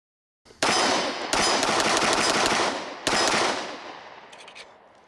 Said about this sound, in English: Shoot this thing some more.